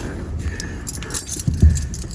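Metal car keys jangling near the microphone as they are picked up for a car that broke down in the Philippines, a few short bright clinks and rattles over quiet background.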